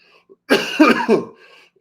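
A man coughs close up: three quick, harsh coughs in a single burst, alone and followed by silence.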